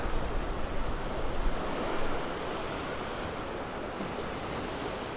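Ocean surf and breezy wind on a beach in North Naples, Florida, on a cloudy morning make a steady wash of waves with gusty wind rumble on the microphone, strongest in the first two seconds.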